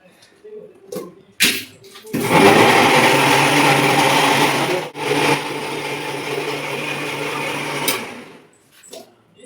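A kitchen grinder whirs loudly and steadily for several seconds, mixing a drink in place of a blender, with brief quieter pauses and knocks before and after the run.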